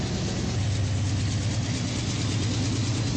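A diesel train engine in the Minecraft Immersive Trains mod throttles up, giving a steady, dense mechanical drone with a low throbbing hum. It stays loud and continuous with no voices.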